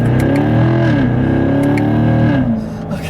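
A 2015 Chevrolet Corvette with an 8-speed automatic accelerates in manual paddle-shift mode on a straight road. The engine note climbs steadily and loudly from inside the cabin before a brief dip near the end, with faint voice traces.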